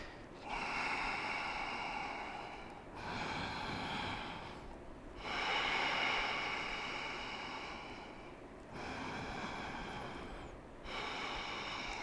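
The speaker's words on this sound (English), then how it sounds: "Take 3 big breaths into the rib cage." Deep yoga breaths drawn into the rib cage during a strong vinyasa flow, four long, close, airy inhale-exhale cycles separated by short pauses, with no talking over them.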